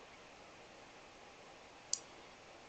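A single crisp computer mouse click, close and clean, landing once against a faint steady background hiss.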